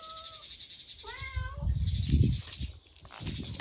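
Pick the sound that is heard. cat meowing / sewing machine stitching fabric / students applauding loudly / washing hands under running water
cat meowing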